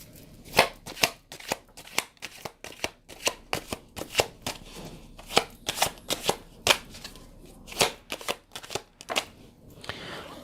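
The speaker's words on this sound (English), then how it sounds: "Let's pull some cards." A tarot deck being shuffled and drawn by hand: a steady run of crisp riffles and card snaps for about ten seconds, close and fairly loud, with no voices.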